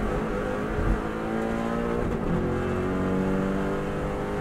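A Subaru WRX STI engine held at full throttle on the Isle of Man TT road course, a loud sustained roar from inside the car with rising engine tones and road rumble, no talk.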